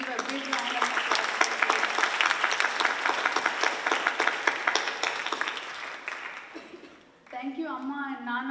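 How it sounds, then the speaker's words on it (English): A crowd at a Kuchipudi dance recital gives sustained, full applause for about seven seconds. The clapping fades out, and then a voice starts speaking. "Please give a big round of applause."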